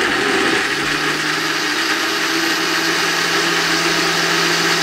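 A countertop blender runs steadily, loud and close, churning a papaya milkshake with ice cream in a continuous whirring drone with no talk.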